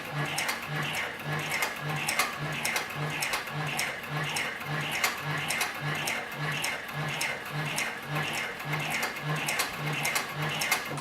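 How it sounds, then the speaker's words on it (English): Heavy-duty leather sewing machine for saddlery, belts and bags stitching steadily, with a regular mechanical thumping and clatter repeating at an even pace throughout. "We'll turn the material 90 degrees and then continue sewing."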